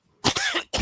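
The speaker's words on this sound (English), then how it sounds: "Step out for a moment so I can go cough my head off again." A man coughs harshly at close range, two heavy, chesty bursts with a brief pause between them.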